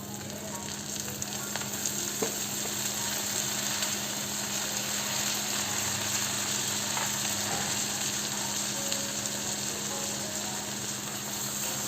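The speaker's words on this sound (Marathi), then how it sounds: "दोन मिनिटं छान टोमॅटो परतून घेतलेला आहे।" Tomatoes sautéing with browned onions for restaurant-style kaju masala, a steady, even sizzle of frying in the pan with a few faint clicks and scrapes, no voices.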